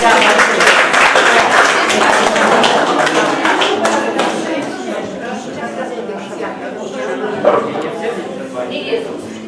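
Audience applause at an author meeting with a poet: dense, sustained clapping fills the room for several seconds, fading slightly toward the end, with voices talking over it.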